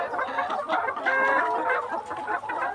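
Layer hens on a poultry farm cluck steadily and close by, several birds overlapping in a dense, continuous chorus with no talking.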